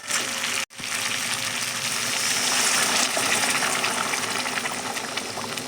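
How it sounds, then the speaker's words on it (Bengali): Water pours steadily and forcefully into a cooking pot of boiled food, a continuous gushing rush after a brief pause at the start, with no talking. "এবার কিন্তু আমি জলটা ঢেলে দেবো"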